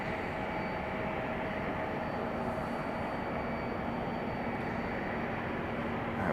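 An airplane takes off at Raleigh-Durham International Airport, a faint, distant and steady broadband engine rumble that holds level throughout and swells slightly at the very end, with no voices.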